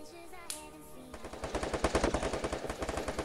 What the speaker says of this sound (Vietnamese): có bắn nhau bên dưới luôn mình sẽ xuống ăn hôi bên dưới trước anh em ơi